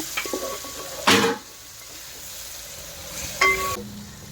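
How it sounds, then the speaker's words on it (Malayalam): Mixed pickle of bitter gourd and vinegar being stirred in a pot, two short bursts of spoon scraping and clinking against the vessel with a faint sizzle between them, close and alone. "ഇതൊന്ന് ഇളക്കി കൊടുക്കാം"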